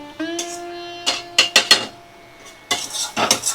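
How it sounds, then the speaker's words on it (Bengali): A spoon stirs and scrapes dried fish curry in a pan over a high flame. Sharp metallic clinks and scrapes come in irregular clusters, with quiet gaps between the bursts. "দেখো এইভাবে আমি নাড়াচাড়া করে নিচ্ছি, একদম হাই ফ্লেমে দিয়ে রান্নাটা করে নিচ্ছি।"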